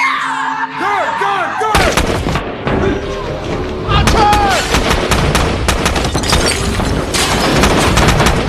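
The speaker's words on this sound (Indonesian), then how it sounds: "Dan terjadilah kontak senjata antara pasukan letnan dan juga para teroris anak buah Abu Sabal." Film firefight between soldiers and terrorists: dense bursts of rapid gunfire and heavy booms crackle almost without pause, loud and close, with whistling and ringing effects and a narrating voice over the top.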